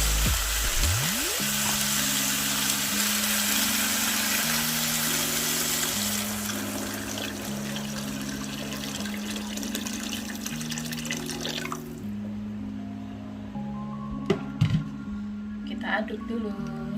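Water poured into a pot of rawon beef soup, a steady broad rushing splash for about twelve seconds under background music, then it stops and a few small clinks follow.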